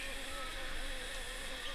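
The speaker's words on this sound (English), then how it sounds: "sound is the cicadas." Cicadas in the distance at Carnarvon Gorge, a steady, even daytime insect drone that holds without a break, fairly faint and far off.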